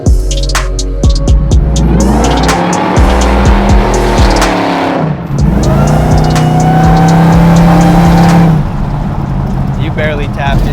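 A 707-horsepower Hellcat-swapped Plymouth Cuda pro-touring build accelerates loudly up close. Its supercharged engine roars and climbs in pitch, dips briefly at a gear change, then pulls again, with a tire squeal near the start.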